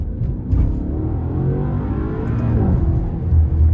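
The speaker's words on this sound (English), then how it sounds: "Oh, that V8 just sounds incredible" A 2023 Maserati Ghibli Trofeo with its Ferrari-built V8 rumbles steadily from inside the cabin, a dense low engine drone that swells slightly toward the end, with no talking over it.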